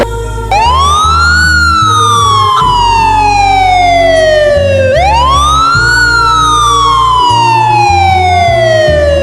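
A loud, close siren wailing in long rising and falling sweeps, repeating twice over a rumbling vehicle engine.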